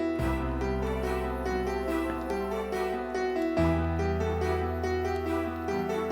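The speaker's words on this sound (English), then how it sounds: "got that piano in that beginning" Sustained piano chords open a song over a deep bass, steady and fairly full, with no voices.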